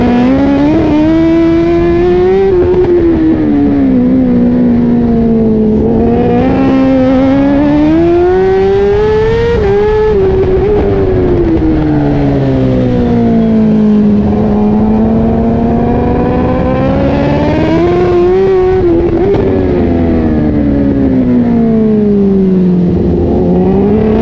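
A racing motorcycle engine screams on a circuit during a national championship race, heard from onboard. The loud, continuous high-revving wail rises and falls through the gears without pause, with no talk.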